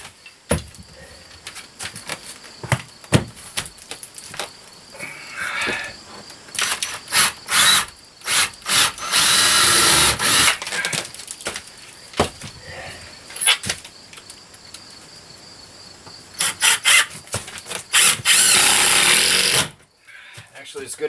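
A drill and power driver run in bursts while radiant barrier and paneling go up in a tiny house: short whirring spurts, then longer loud sustained runs, with talk and handling noise between.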